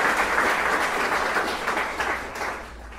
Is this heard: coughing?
no